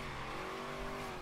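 A car drifting on a banked Hot Wheels track in Forza Horizon 3, steady engine drone with a sustained tire squeal, constant and moderately loud, no one speaking.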